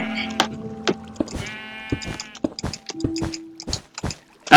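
Fiesta Sheep in a video game bleating in a wavering, nasal cry, mixed with sharp clicks and short electronic tones that pop up at uneven intervals.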